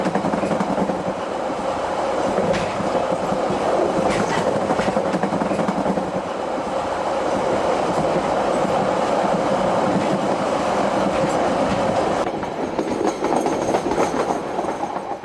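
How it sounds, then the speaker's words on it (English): A train climbing up the Waimakariri River Valley, its steady rumble and clickety-clack of wheels on rails continuous and fairly loud throughout, with no talk. "As the train begins to thread its way up the Waimakariri River Valley"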